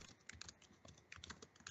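Someone typing on a computer keyboard during an online tabletop role-playing game session, quick irregular clacking keystrokes in bursts, faint and close-miked with no talk over it.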